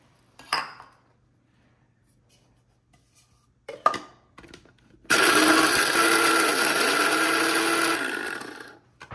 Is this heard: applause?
no